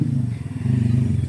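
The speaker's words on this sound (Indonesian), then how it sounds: "Motor juga lewat tuh." A motorcycle engine rumbles steadily as it passes close by on a rainy mountain trail near a hiking post on Mount Ciremai, a continuous loud drone with slight swells and no talking.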